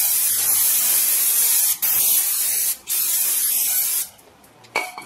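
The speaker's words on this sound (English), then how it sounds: "A little brake cleaner" Brake cleaner sprays from an aerosol can onto a new brake rotor of a 2016-2021 Honda Civic, three close, loud sustained hissing bursts with brief gaps, then a short final spritz.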